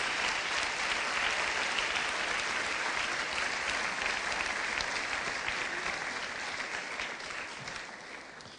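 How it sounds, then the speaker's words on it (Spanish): A church congregation claps as an offering to Jesus, with a full, continuous round of applause that slowly tapers toward the end. "Demos una ofrenda de palmas, hermano, a Jesús."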